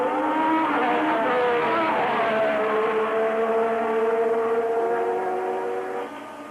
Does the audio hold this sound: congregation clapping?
no